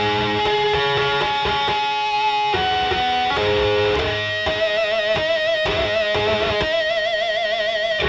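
Guitar rings out with a run of sharp tapped notes producing bell-like, chiming harmonic tones, played steadily and up close.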